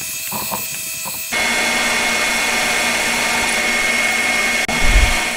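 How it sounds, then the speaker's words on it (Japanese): A power drill bores screw holes in a handmade connecting rod for a 125cc four-cylinder, 16-valve engine, a loud, steady whine that starts abruptly and runs evenly, ending with a brief low thump. "ネジ穴用の穴開けてるんですが、つかみが甘かったせいか、途中でずれちゃいましたね。"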